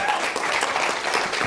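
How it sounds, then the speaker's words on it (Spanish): A roundtable audience gives a warm, continuous round of applause for the panel members, with dense clapping filling the short moment and a faint voice underneath. "Vamos a darles un aplauso."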